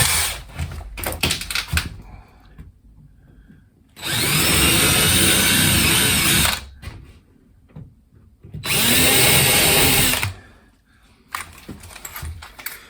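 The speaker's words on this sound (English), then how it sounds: "let's get a couple of screws in there" A power drill drives screws into a ceiling board inside a narrowboat, with two loud sustained whirring runs of a couple of seconds each, separated by quieter handling knocks and clatter.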